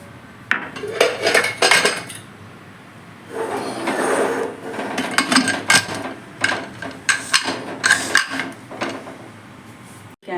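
Metal clanks and clatters as a lid is fitted onto a pressure cooker, a series of close, sharp knocks and scrapes in bursts.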